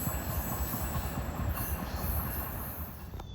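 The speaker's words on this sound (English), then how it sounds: "This is train 181 from New York to Washington." An Amtrak train, number 181 from New York to Washington, rumbles past close by with loud continuous wheel clatter and rhythmic clicking over rail joints, a faint high squeal riding above, no voices.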